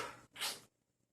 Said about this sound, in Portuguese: Perdão, moçada, o espirro